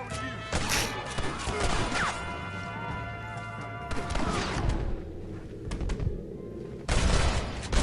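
Gunfire at enemies in the video game Red Dead Redemption: repeated sharp shots and impact cracks ring out in irregular bursts, with ricochet-like whines and a loud cluster near the end.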